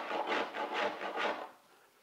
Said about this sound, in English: So what I need to do is rasp out my sink seat here so that that sink sets down in there a little bit further.